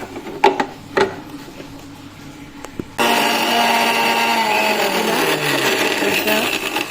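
A few knocks and clatters, then a mixer grinder starts abruptly and whirs loudly and steadily, blending beetroot and carrot pieces, its motor droning for several seconds.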